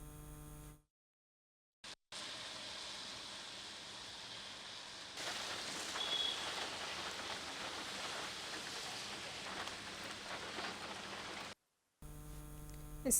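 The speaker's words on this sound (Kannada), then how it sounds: "ಸಾಂಸ್ಕೃತಿಕ ನಗರಿ ಮೈಸೂರಿನಲ್ಲಿ ಜಿಟಿ ಮಳೆ ಬಿಟ್ಟು ಬಿಡದೆ ಸುರಿತಾ ಇರುವಂಥದ್ದು" Steady light drizzle falls in Mysuru, a continuous soft hiss of rain that runs unbroken for most of the stretch, with brief silent gaps near the start and end.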